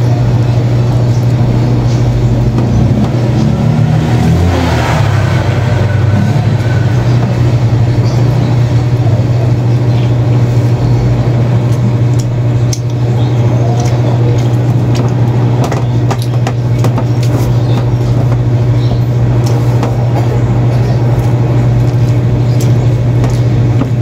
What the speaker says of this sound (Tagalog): Dami na daw sa sasakyan mga idol.